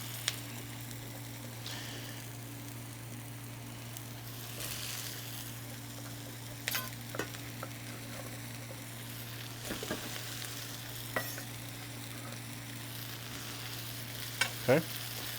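Zucchini sautés with onions in a pan for an Egyptian edamame stew, giving a soft, steady sizzle broken by a few light clicks and scrapes of stirring.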